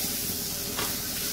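Mushrooms stirred into a sizzling masala in a pan, with a steady hiss of frying and soft stirring scrapes throughout, close and continuous.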